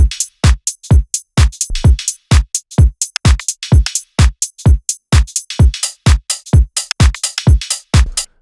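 Drum group from a groovy house track: a steady, punchy four-on-the-floor kick pattern with crisp hats and percussive hits in a tight repeating loop, loud and dry with no voices.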